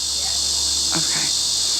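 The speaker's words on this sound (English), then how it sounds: "the crickets are back" Crickets chirp at a campsite in a steady, high, continuous trill, with a couple of brief low sounds breaking in midway.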